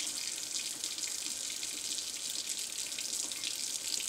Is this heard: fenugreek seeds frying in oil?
no